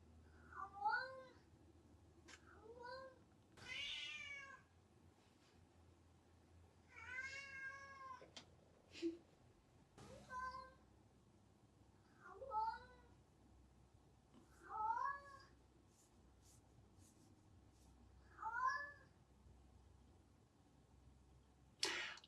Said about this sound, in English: Our poor cat, Natsu, who is being very verbal in the background, is an inside-outside cat